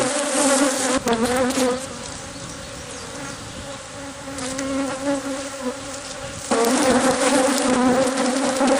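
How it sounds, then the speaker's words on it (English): Honeybees swarming around an opened, aggressive hive, a dense, loud, continuous buzzing close to the microphone, swelling and easing as bees fly past, with no talking. "As you can see, the bees are still in full attack mode."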